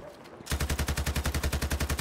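A gun in Battlefield 2042 fires a steady, rapid automatic burst of evenly spaced, punchy shots after a brief quiet lead-in, loud and close.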